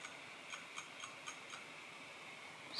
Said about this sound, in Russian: Часы!